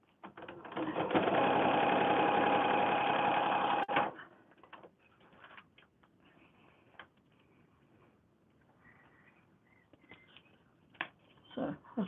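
A sewing machine stitches a paper-pieced quilt block in one close, continuous whirring run of about three seconds, followed by quiet handling noises and faint shuffling.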